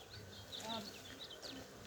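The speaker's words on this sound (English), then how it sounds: "you'll have the guard bees fanning their wings" A steady, low insect hum of buzzing honeybees, guard bees fanning their wings, close by at a newly formed hive being moved, with faint higher chirps over it.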